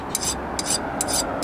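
A hand file rasps rust off a front brake part from a 2006 Toyota Corolla, four close, steady back-and-forth strokes over a constant background hiss.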